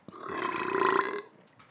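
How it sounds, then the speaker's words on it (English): A single long, loud, deep burp after drinking cherry-flavored sparkling water, lasting about a second, close up, followed by quiet. "it finally settled in my stomach and it finally burped"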